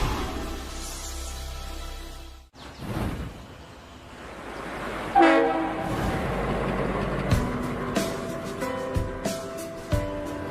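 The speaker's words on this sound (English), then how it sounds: "The train ride was beautiful" A moving train rumbles steadily during a passenger ride, with a brief break and then a lighter stretch marked by regular clacking beats and knocks.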